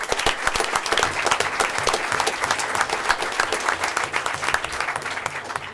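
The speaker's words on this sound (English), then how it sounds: "Let's give them a round of applause for that." Sustained, dense applause from an audience at a school board of education meeting honouring the school wrestling team, steady clapping throughout with no pauses.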